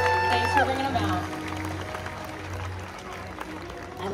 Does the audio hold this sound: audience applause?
yes